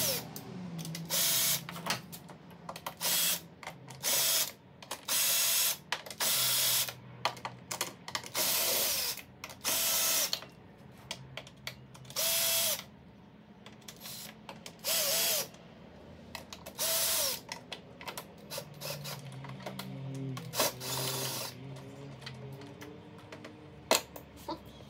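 Repeated bursts of a power drill whirring on and off during a BMW 323i E90 valve cover gasket replacement, each lasting a second or two, with clicks and handling noises between them.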